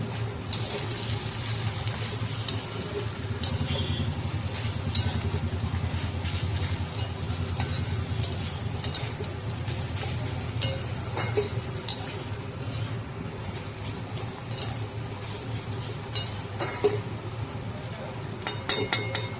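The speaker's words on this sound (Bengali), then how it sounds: "ভালোভাবে পোস্তটা দিয়ে ভেজে নেব।" Poppy seed paste frying with ridge gourd and potato in a pan gives a steady, moderate sizzle throughout, with light stirring scrapes and clinks over a low background hum.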